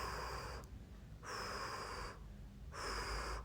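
Two long, deep exhalations during a guided breathing exercise, each a steady breathy rush lasting about a second, separated by a short pause, with a faint high tone over them.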